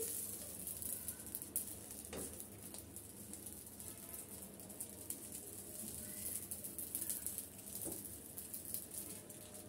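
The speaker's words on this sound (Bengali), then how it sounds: "আর এভাবে উল্টিয়ে পাল্টিয়ে আমি এটা একটু ভেজে নিচ্ছি।" Potato snack (aloo kuncha) frying in a pan brushed with a little oil and being turned over: a steady, close sizzle throughout, with a couple of soft knocks from turning, no talk.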